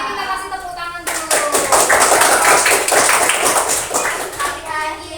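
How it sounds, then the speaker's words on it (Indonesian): A group of people, including children, claps together at the close of a gathering. The crisp applause bursts in after a brief pause and carries on for several seconds, loud and close. "Oke, kita kasih tepuk tangan dulu."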